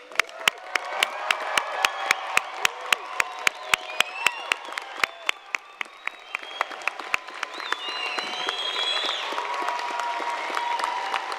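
An audience at an evening college commencement ceremony applauds graduates with sustained clapping, sharp individual claps standing out near the mic over a dense crowd wash, with a few cheers and whoops toward the end.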